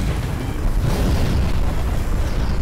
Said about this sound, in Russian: Пошла еще волна. Еще бомбы пошли.